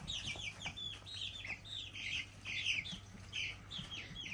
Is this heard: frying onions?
no